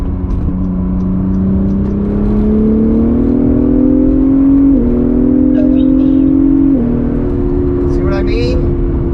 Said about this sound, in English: that dual clutch shifts so fast